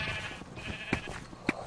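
Sheep in a video game bleat several times at moderate distance, with two sharper, louder bleats near the end over a busy, low game background and no speech.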